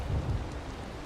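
A rumbling thunderclap with steady rain hiss sounds in a video game thunderstorm as lightning strikes. It opens with a couple of brief low booms, then a continuous wash of rain carries on at moderate loudness.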